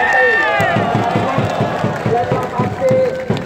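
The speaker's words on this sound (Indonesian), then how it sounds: "Berikan tepuk tangan yang luar biasa buat Sekjen KMCI" A crowd at an outdoor rally clapping, loud and rhythmic in a steady repeated beat, mixed with cheering voices.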